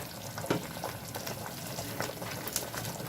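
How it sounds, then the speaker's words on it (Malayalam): Sauce for chili chicken boiling in a pan, a quiet, continuous bubbling and popping heard close by with small irregular bursts. "നന്നായിട്ടൊന്ന് തിളച്ചിട്ടുണ്ട്."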